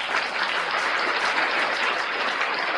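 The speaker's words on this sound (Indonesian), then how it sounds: "Tepuk tangan untuk Yudas" Applause from a crowd at a heated religious debate stream, a steady dense wash of clapping that holds at even loudness for the whole stretch with no voices over it.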